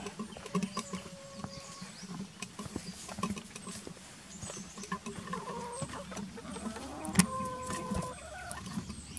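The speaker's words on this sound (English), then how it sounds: "We're going to take it down here to the chickens" Several hens clucking nearby on a homestead, with soft murmuring calls and occasional sharper squawks over some light rustling and mechanical clatter.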